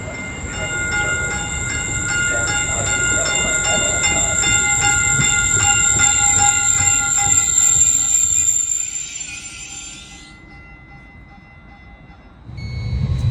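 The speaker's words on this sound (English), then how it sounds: "Boarded the train. We're on our way back home." A train rolls along the rails with a steady rumble and a sustained high metallic squeal, fading quieter before the rumble returns.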